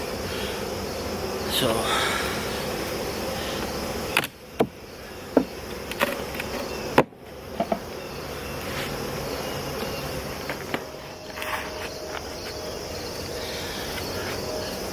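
Honey bees hum around an open double-deep brood box hive during winter preparation, a steady buzzing drone in the background with occasional sharp knocks and clicks from handling the boxes, and a brief spoken word.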